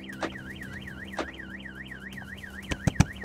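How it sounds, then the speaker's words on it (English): A luxury car's alarm sounds alone, a steady warbling siren cycling up and down repeatedly at close range, with a few sharp clicks and knocks near the end. "first the car alarm goes off"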